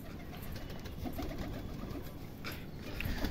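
Pigeons kept by a fancier cooing, soft repeated low coos blending into a murky background, fairly faint and steady, with no talking.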